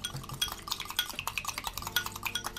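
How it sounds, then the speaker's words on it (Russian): Egg white is whisked in a bowl for a homemade face mask, producing quick, faint, continuous clinking and scraping of the whisk against the dish, heard close with no voices. "Взбиваем белок."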